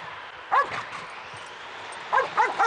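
A dog yips and barks in short bursts, two or three sharp calls early and then a quick run of three, fairly close, in a quiet outdoor winter scene with sled and driver.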